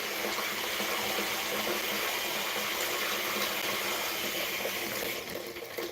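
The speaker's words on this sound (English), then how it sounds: "What's that you hear? Running water." Water runs steadily in an outdoor no-till garden setting, a constant close hiss and gush like a filling container or tap, with no one speaking.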